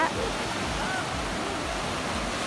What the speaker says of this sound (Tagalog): Nag-enjoy nga yung mga bata sa lakas ng alon.